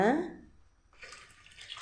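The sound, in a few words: pouring a vessel of water for sambar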